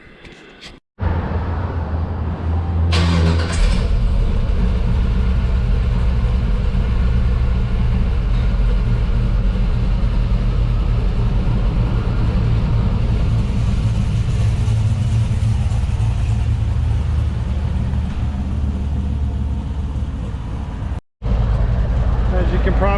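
A 1967 Chevelle Custom engine starts and runs with a deep, steady rumble, heard close and loud, with a brief cut near the end and some talking over it.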